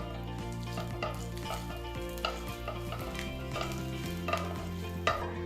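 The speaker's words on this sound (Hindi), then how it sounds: "मैं यहाँ डाल रही हूँ 3 से 4 लंबी कटी हरी मिर्ची और इसे अब हम थोड़ा सा सौटे कर लेते हैं" Green chillies, garlic and ginger sautéing in a pan, with a steady close sizzle and occasional stirring scrapes running throughout.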